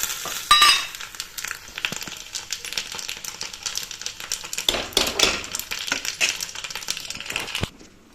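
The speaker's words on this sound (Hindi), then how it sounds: "तो इसको तड़का लगा दूँगी मैं।" Loud crackling sizzle of mustard seeds, curry leaves and chilli hitting hot oil, with sharp popping bursts throughout and a sudden flare of spattering midway, no talking.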